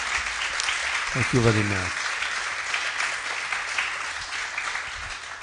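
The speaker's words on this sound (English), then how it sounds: "I propose another applause for" An academic conference audience applauds in a steady, fairly loud wash of clapping, while someone briefly speaks over it near the start.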